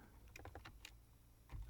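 Quick clicking keystrokes on a computer keyboard while entering a date: a burst of several rapid taps, a short pause, then one more heavier tap, close and fairly quiet with no talking.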